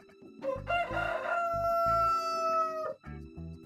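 A rooster crows a full, loud cock-a-doodle-doo, rising then holding a long drawn-out final note, with some clucking and farmyard fowl noise around it and no talk.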